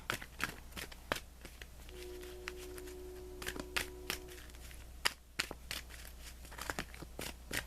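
Tarot cards shuffled by hand at close range, with soft, quick riffling and flicking bursts in an uneven rhythm against a quiet background and no talking.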